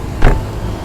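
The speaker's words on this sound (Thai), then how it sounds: "อาจจะเสียงดังนิดนึงนะครับ อยู่ริมถนนใหญ่เลยนะครับ" A vehicle passes on a busy main road in front of a Honda showroom, a brief loud whoosh over a steady low traffic rumble.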